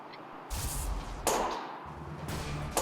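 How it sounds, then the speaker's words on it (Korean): A disposable lighter left on a car dashboard bursts from summer heat inside a parked car, giving sharp, loud cracking pops, three separate bursts spaced apart, each trailing off into a hiss. "1시간이 넘어가자 대시보드에 있던 라이터가 터졌습니다."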